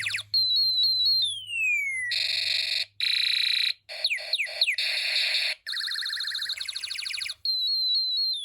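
Electronic sound effects from a Snap Circuits space war integrated circuit switch rapidly between sweeping siren-like tones, harsh buzzing bursts and rising zaps, loud and clear with brief gaps between them.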